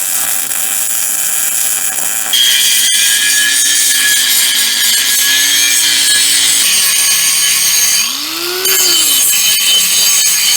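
A loud, steady high-pitched whine of a lathe turning down a metal part, with a harsh grinding hiss throughout and a brief pitch swoop near the end.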